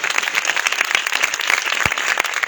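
A church congregation at a live village worship service claps loudly and vigorously, with sharp individual claps standing out from the crowd's continuous applause.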